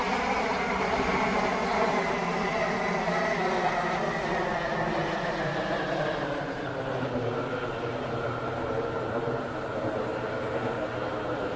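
A video game train approaching Stepford Airport Central runs steadily with a smooth, droning rumble and a faint engine hum that slowly shifts pitch, with no talking.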